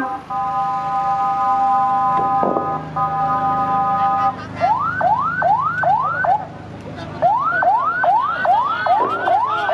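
Ambulance siren wailing nearby at night outside a burning parliament building, first a steady multi-tone blare, then a repeating rising whoop cycling rapidly over crowd noise.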